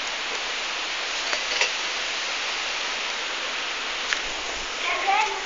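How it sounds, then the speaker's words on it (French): Steady broadband hiss of rain falling during a thunderstorm, continuous and even, with a few faint ticks and brief voice-like squeaks near the end. "Ouais, t'as vu toute la pluie?"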